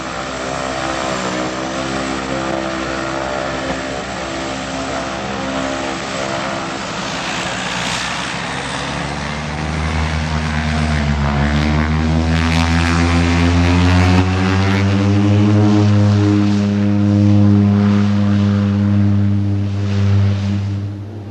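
Small propeller airplane on a short flight to Kathmandu in the Himalayas, a steady droning engine with strong harmonic tones that rises in pitch and grows louder midway, sustained throughout without speech.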